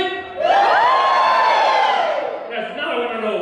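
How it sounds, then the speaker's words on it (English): Italian audience members at a comedy show cheering and whooping together, a loud burst of crowd shouting with one rising high whoop standing out, then tapering into scattered voices. "Give me a cheer if you're from Italy."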